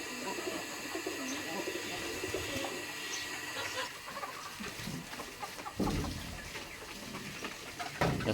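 Local pigeons at a poultry and duck farm in Dhemaji, Assam, give soft cooing calls mixed with chicken clucks and other fowl, steady and close throughout under a faint background murmur.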